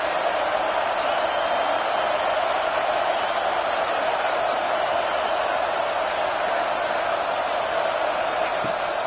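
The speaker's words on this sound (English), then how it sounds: "This crowd trying to make life miserable for this offense." Steady stadium crowd roar from a college football video game, a dense, constant wash of distant voices holding at one level throughout with no individual words standing out.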